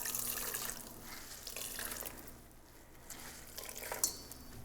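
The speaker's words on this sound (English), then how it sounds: "we're gonna put it with the cheesecloth and we're gonna squeeze out the excess liquid" Liquid from grated apple is squeezed through cheesecloth for an apple strudel filling. Faint wet trickling and dribbling continue quietly with a few soft rustles, and no voices are heard.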